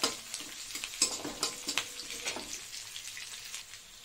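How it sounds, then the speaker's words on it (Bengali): Onions fry in oil with black cumin seeds, a close, soft, continuous sizzle broken by light crackles and occasional stirring. "তারপর কালো জিরা ফোড়ন দিয়ে এই যে পেঁয়াজটা ভাজছি"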